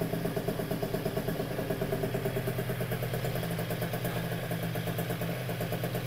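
Piaggio Zip two-stroke scooter engine idling while warming up after a repair, a steady close rhythmic putter with light clatter throughout and no talk.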